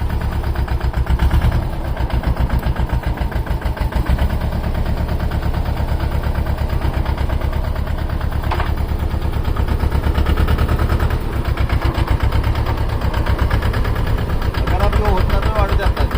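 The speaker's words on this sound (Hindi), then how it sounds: "फिर हाई में भी चलवाओगे, और भाइयों चौथे के लो में भी चाल दिखाऊंगे ट्रैक्टर की।" A Mahindra Yuvo 225 tractor engine runs steadily at close range in a sugarcane field, a continuous low chugging throb with faint pulsing, loud and unbroken throughout.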